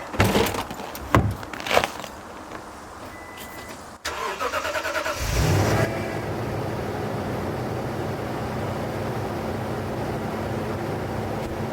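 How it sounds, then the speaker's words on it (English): A pickup truck engine cranks and catches on a freezing cold morning, then settles into a steady, loud idle as it warms up, with no talking. "We need to get the truck warmed up and running and head up to the off-grid property."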